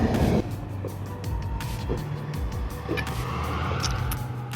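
Road traffic rolls past a bus stop, a steady wash of car and engine noise with a loud burst at the start, then continuous moderate rumble and faint clicks, no talking.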